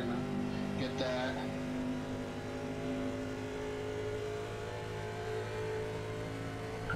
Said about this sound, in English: it sounds like my engine's gonna die any minute